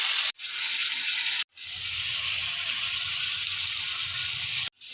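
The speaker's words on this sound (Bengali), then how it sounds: "এবারে দিয়ে দিচ্ছি পেঁয়াজ বাটা," Onion, ginger and garlic paste fries in hot oil with cardamom, chilli and bay leaf, a loud close sizzle broken by two brief dropouts, then a lower bubbling rumble underneath.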